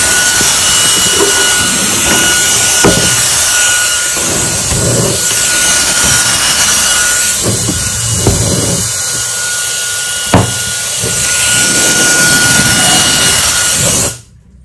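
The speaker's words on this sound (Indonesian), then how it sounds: "untuk kecepatan dari jet fan ini, tes kecepatan penuhnya" Mini jet fan blower at full speed: a loud, steady high-pitched whine and rushing airflow running continuously up close, with a faint click partway, then cutting off abruptly at the end.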